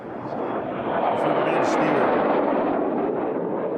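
A racing airplane at the Reno air races roars across the finish line, a loud rushing engine drone that builds and sustains, with a commentator talking over it.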